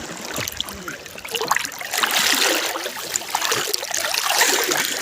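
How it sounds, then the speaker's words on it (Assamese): The Brahmaputra river flows past in a broad, rushing wash of moving water, close and fairly loud, swelling unevenly with gusty surges. "नदी का बहाव देखो कितना है।"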